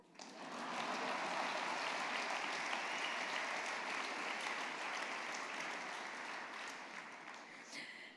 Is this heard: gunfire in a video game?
no